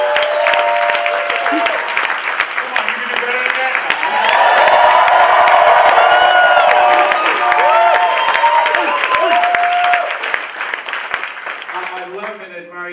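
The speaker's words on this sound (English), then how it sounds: "Give him another round of applause." A large motivational-seminar crowd applauds, cheers and whoops loudly and steadily, swelling in the middle before tapering off at the end, while a speaker talks over the noise.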